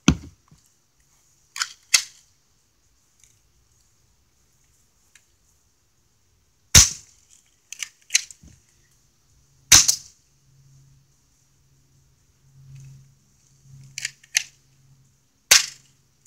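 Airsoft guns firing at an old camera give sharp, close single snaps, spaced irregularly in pairs and singles with quiet gaps, some followed by faint impact clicks.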